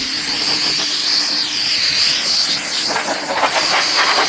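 Spray gun laying a first coat of primer onto an automotive turbine housing, a steady close hiss running the whole time with slight surges as the gun passes.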